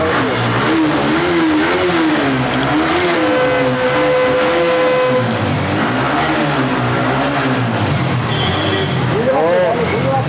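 A used 2019 motorcycle at a second-hand bike showroom revs repeatedly, loud and close, its engine pitch rising and falling in waves under people talking.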